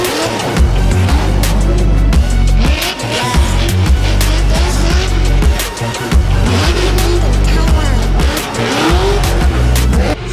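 Drift cars howl and rev hard around the wet Mondello Park track, tyres squealing and skidding through repeated slides, loud and close with engine bursts overlapping.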